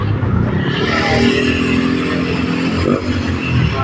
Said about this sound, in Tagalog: dumadaan ang sakyan guys